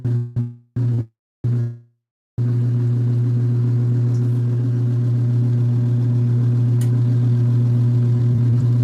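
An LG ThinQ MEGA Ultimate washer spins with a steady low hum and drone, after a few short choppy bursts and a second of silence near the start, then holding continuous and fairly loud to the end, with no talk.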